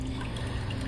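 Water spouting from a small waterfall in a crested gecko paludarium, a steady close splashing trickle that runs unbroken through the short clip.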